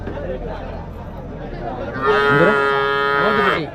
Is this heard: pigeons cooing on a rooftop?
no